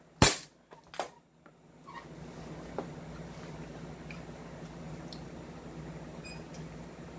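A non-upgraded airsoft gun fires two or three sharp, snappy shots in quick succession right at the start, followed by a faint, steady background hum.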